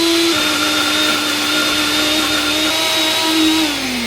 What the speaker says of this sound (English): Then we're just gonna mince everything up.